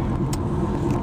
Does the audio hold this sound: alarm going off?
no